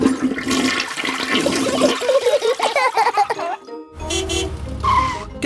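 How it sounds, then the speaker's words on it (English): Cartoon toilet flushing in a Peppa Pig episode: a loud, rushing gurgle of water swirls for a few seconds, then cuts to a short burst of higher bright tones at the end. "Flush the toilet, George!"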